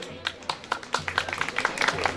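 An audience at a Sivasspor jersey auction claps in scattered, uneven bursts that build toward the end, under a voice talking over a microphone.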